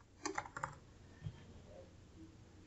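A short run of computer keyboard typing while entering data into a spreadsheet: a few quick, close key clicks near the start and a single tap a little later, with quiet room tone in between.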